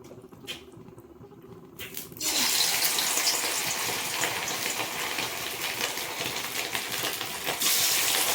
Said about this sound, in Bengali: এখানে তেল গরম হয়ে গেছে চিকেন ম্যারিনেট করে এক ঘন্টা রেখে দিয়েছিলাম এবার এগুলোকে ভেজে নেব